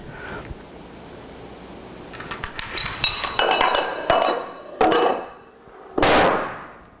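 A run of quick clicking and clattering taps from a chain of dominoes builds into heavier knocks, ending in a couple of loud, booming thuds as a domino over 1 meter tall, about 100 pounds, topples.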